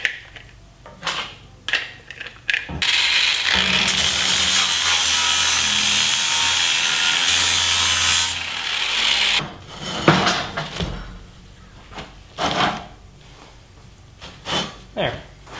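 A rounded grit sanding attachment on a power tool grinds over corner welds, a harsh, loud rasping burst lasting several seconds, framed by clanks, handling noises and someone talking before and after.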